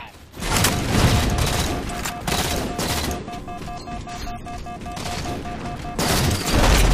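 Rapid bursts of gunfire and grenade blasts in a Halo 4 Infinity Slayer match on the Abandon map, dense and loud throughout, with a short lull in the middle before the firing picks up again.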